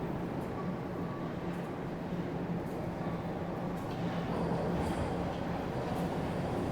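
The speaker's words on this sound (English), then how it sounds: "that was a Line 1 northbound train leaving College Station here." A Toronto Line 1 northbound subway train pulls out of College Station, a continuous low rumble of wheels and motors filling the underground platform at steady loudness, with faint brief squeals above.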